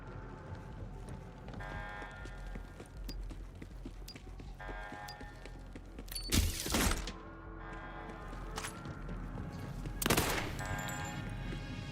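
Gunfire from an SMG in the video game Borderlands 4, heard as two loud bursts of shots standing out over steady game music and ambience.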